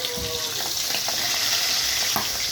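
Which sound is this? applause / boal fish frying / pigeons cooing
boal fish frying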